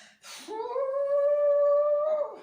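A dog lets out a single drawn-out, high whining cry, rising and holding steady before trailing off, close and alone.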